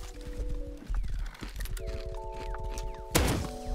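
Rapid hoofbeats of a galloping horse in the video game Rust, in a snowy area, with sustained musical tones and a sharp crash near the end.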